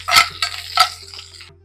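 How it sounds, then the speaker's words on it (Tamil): Split green chillies tossed into a pan of dal on a low flame: a couple of sharp clattering hits and a brief sizzle, close by, then quickly fading to near quiet. "ஒரு மூணு பச்சை மிளகாய் ஸ்ப்ளிட் பண்ணி வச்சுருக்கேன் அதையும் சேர்த்துருங்க"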